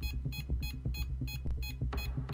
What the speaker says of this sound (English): I need to know why this thing is beeping when it's next to the box.